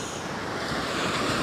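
Sea waves at Maidencombe on the Devon coast wash in as a steady broadband roar with a gentle swell in loudness, heard alone with some wind rumble across the microphone.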